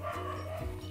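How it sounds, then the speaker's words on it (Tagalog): A dog barks and yips close by in a home, one sustained burst with a short break before it resumes, loud and alone without speech. "pagpasensyahan nyo na yung aso"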